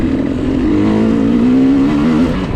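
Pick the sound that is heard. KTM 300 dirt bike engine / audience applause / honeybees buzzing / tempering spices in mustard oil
KTM 300 dirt bike engine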